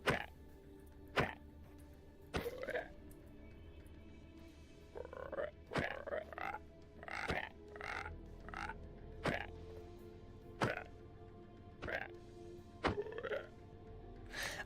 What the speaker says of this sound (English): I think the hit sound is not nearly as good as the croaking.